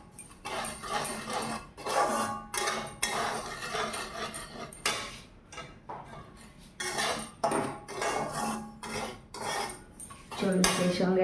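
A metal spoon stirs semolina roasting in a pan, sharp scraping and clinking strokes in irregular bursts separated by short pauses, close and fairly loud, with no talking.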